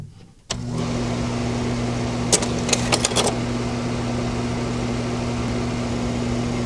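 A sharp mechanical click starts a steady motor and fan hum, then a quick cluster of clacks and rattles as a slide projector changes slides.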